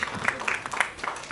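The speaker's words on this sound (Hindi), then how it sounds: "जोरदार तालियां मेरे साथ साथ" Studio audience clapping for the star cast of a TV show on stage, a brief burst of dense applause under a presenter's voice.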